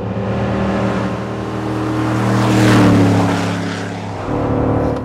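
Pickup truck (Ford F150, RAM 1500 or Chevrolet 1500) engine held at full throttle while towing 3500 kg, a loud, steady droning roar with sustained harmonic whine that swells midway and dips briefly before resuming near the end.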